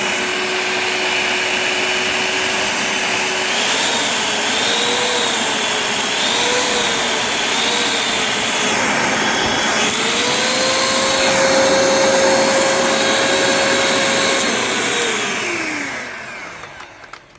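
An Anko electric mixer runs at its slow speed setting, a loud, steady motor whine with a droning tone that wavers slightly, rises in pitch near the end, then winds down as it switches off.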